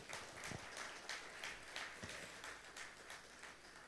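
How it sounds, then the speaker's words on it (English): Faint, distant audience applause at a wellness conclave, a steady wash of many hands with a few sharper individual claps standing out. "big round of applause, ladies and gentlemen?"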